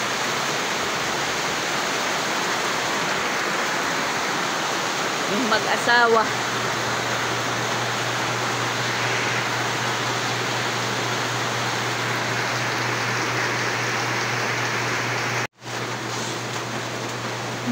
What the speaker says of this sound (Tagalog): At lalong lumalakas na naman, guys, yung ulan.